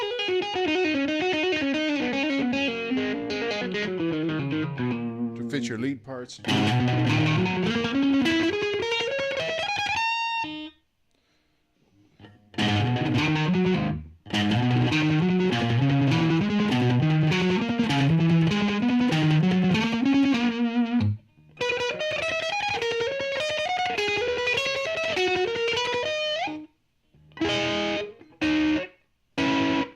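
Heavily distorted electric guitar through a Joyo AC Tone amp sim plays lead lines and chords in bursts, with brief pauses between phrases; a voice speaks briefly.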